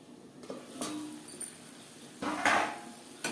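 A metal lid is set over a pot of green tomato and pabda fish curry cooking on a low gas flame, giving a few soft clinks and clanks against a quiet kitchen background.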